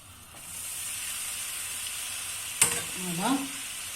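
Noodles being stir-fried in leftover oil make a steady hiss of sizzling. A sharp clatter of utensils cuts in near the end, followed by a short squeaky, voice-like tone.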